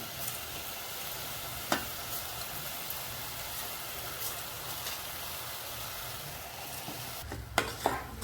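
Washed homemade Indrayani rice tipped into a pan of frying peanuts for sweet corn masala rice and stirred, giving a steady low sizzle with a few faint scrapes and clinks of the spoon against the pan.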